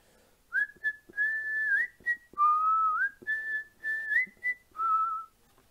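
A cartoon wolf whistles a jaunty, meandering tune alone, in about a dozen short melodic phrases with brief gaps between them, clear and close with no talking.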